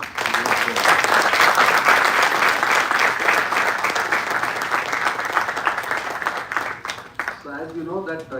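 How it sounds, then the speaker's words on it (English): A crowd applauds warmly at a Rotaract club installation ceremony, dense sustained clapping for about seven seconds before tapering, with a voice speaking as it fades. "let us have a good round of applause for the previous board"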